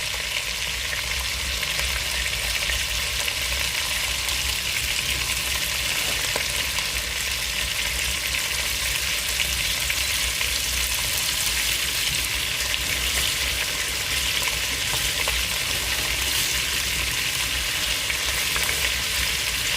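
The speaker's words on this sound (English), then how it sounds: "I think my oil is ready for my fried wings. So I'll put them in now." Chicken wings deep frying in hot oil, with a steady, dense sizzle and bubbling that holds constant and close throughout, with no talk over it.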